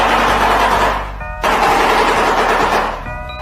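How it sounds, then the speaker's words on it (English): A shoebill clatters its huge bill in a rapid, rattling burst like hollow wooden knocking, loud and close, pausing briefly before a second long run of clattering. "Next is shoebill."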